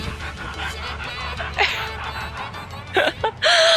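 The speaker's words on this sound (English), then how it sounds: "we're just down at the dog park today, letting the dogs off the lead for the first time in a while" Dogs let off the lead at a dog park pant and give short yips and whimpers close by, with a few sharp louder bursts near the end over a low outdoor background.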